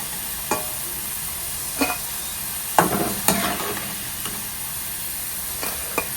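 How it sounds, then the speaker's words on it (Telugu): Long-sliced onions fry in oil toward brown for a mutton dum biryani, a steady close sizzle broken by a few sharp stirring scrapes and clinks. "పొడవుగా కట్ చేసుకొని బ్రౌన్ కలర్ వచ్చేంత వరకు వేయించుకుందాం"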